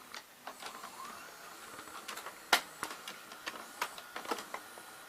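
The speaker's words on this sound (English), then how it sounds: "They're both gonna go into play mode, so you can hear like the difference of the noises." Mechanical whirring and hiss of a Philips Magnavox VRA670 and a Daewoo DV-F28N VCR running in play mode, with irregular clicks and clunks of moving parts, close by and steady.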